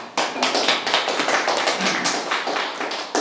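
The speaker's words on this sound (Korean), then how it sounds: "오늘 이렇게 환영 다시 한번 박수." A small class at an I Ching reading session gives welcoming applause. Close, dense clapping continues steadily for a few seconds.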